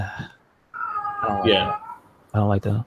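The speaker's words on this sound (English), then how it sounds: "That's my cat." A loud domestic cat meows in drawn-out, wavering cries indoors, interleaved with a person talking nearby.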